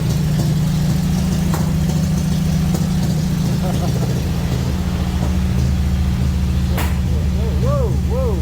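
A 1954 Ford F-100 truck engine starts and settles into a rough, loud idle close by, its low rumble running steadily while a person talks over it.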